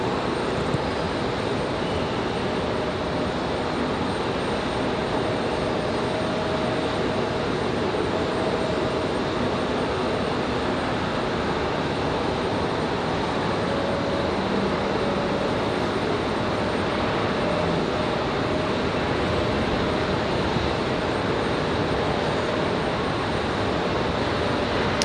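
A jet airliner departing Raleigh-Durham International for Minneapolis gives a steady, loud, broadband engine roar that holds through the whole stretch without fading, with no voices over it.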